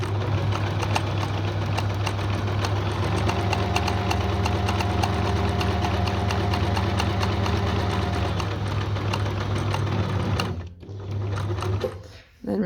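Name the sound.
sewing machine stitching fabric appliqué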